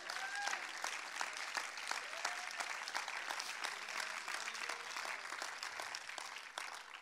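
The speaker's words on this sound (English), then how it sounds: "Somebody give the Lord a hand clap of praise" Steady applause with dense hand clapping from a crowd, continuing evenly throughout, with a few faint voices mixed in.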